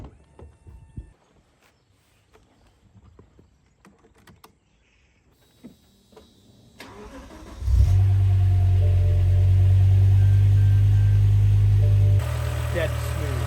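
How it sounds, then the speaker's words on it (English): A neglected BMW E60 M5 with its V10 engine cranks and fires after some faint tapping and clicks, then settles into a loud, steady, smooth idle that drops slightly in level near the end. "The engine runs as sweet as a nut,"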